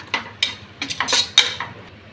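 A spoon scrapes and clinks against a pot while yogurt and mint are stirred into chicken biryani gravy, about seven or eight short metallic strokes in an uneven rhythm, close and clear with no talk.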